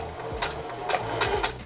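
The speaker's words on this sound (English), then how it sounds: "I'm just gonna sew along the outer edge" Sewing machine stitching along the outer edge of fabric pieces for a small frog hat, a close run of rhythmic mechanical whirring and clicking pulses with no talk.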